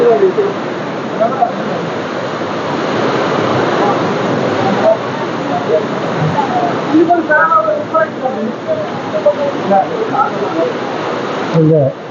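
Heavy rain pouring down steadily over a crowd of devotees at the Kottiyoor Vaishakha temple festival, a dense, loud roaring wash with murmuring people mixed in beneath it.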